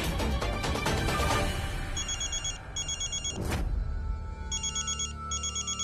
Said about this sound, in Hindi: अम्मा देखिए, जया का फोन होगा।